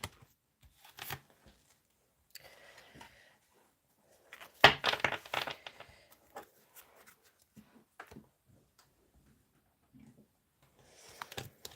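Tarot cards being shuffled by hand in a quiet room, giving soft irregular riffling and slapping bursts with a louder flurry midway and short pauses between.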